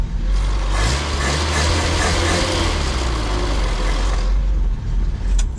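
Engine of a first-generation Honda Civic running steadily after a new fuel pump was fitted, a loud, close, continuous idle with a low rumbling drone that fades somewhat toward the end.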